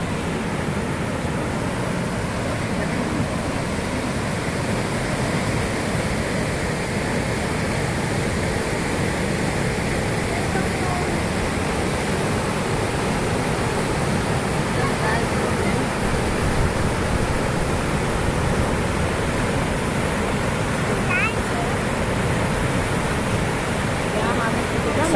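Flooded Sangavadi river near Kodinar in Gujarat after heavy rain, a loud, steady roar of rushing water that stays broadband and unbroken from start to finish.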